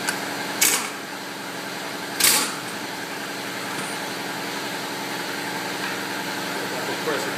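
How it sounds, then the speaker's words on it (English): Air compressor running steadily in a garage during a ball joint and tie rod job on a 2003-2007 Honda Accord, a continuous motor drone with two brief sharp bursts early on. "Let that compressor build up a little bit. I think about 140, 160 pounds of pressure"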